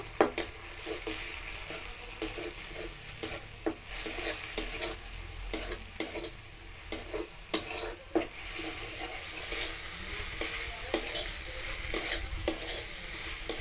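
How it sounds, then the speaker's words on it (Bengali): Ground turmeric, chili, cumin and coriander masala frying in a pan for a green pea fritter curry, with a steady close sizzle broken by frequent sharp scrapes and taps of a spoon stirring against the metal, no voices. "মশলাটা ভালো করে কষে নেব"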